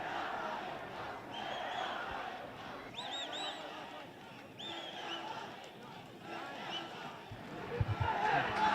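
A crowd roars at a Nepal vs Bhutan SAFF U-20 football match in Nepal, with a surging mass of voices and rising whistles and shouts. The din swells and dips across the clip, with a commentator's voice mixed in.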